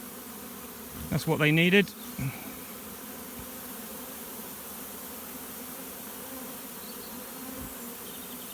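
Swarm of bees buzzing continuously while being hived into a swarm trapping box, a steady moderate drone throughout, with a short spoken phrase near the start.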